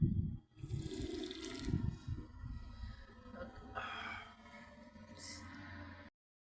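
Water pouring from a tap in a playful pouring challenge between siblings; a fairly quiet splashing rush runs for a few seconds, then eases off and stops abruptly.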